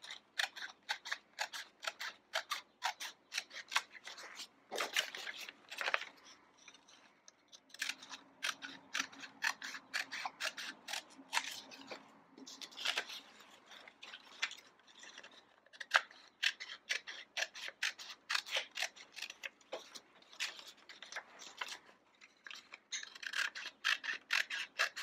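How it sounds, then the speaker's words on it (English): Scissors snip through paper to cut out the lines of a kite frame, a long run of close, crisp cuts in quick irregular bursts with brief pauses, quiet and without any talk. "And then I'm just going to cut my four lines that I drew very carefully."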